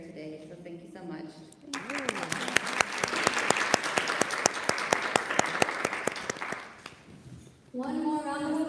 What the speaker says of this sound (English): One more round of applause for our second panel.